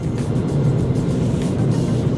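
A rented car cruising on the Tartu highway, heard as a steady low road and engine rumble from inside the cabin, even and unbroken, with no voices.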